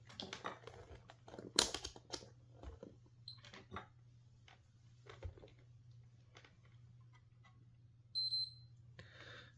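Multimeter continuity beep during repair of a broken SEGA Genesis Model 2 console; one short, faint high tone near the end among quiet clicks and handling noise.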